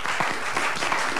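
A studio audience breaks into steady applause at a televised talk show, dense clapping filling the moment with no voices over it.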